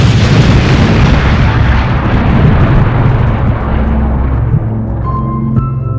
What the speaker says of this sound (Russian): И вот через полминуты раздался мощный взрыв, который опрокинул почти все,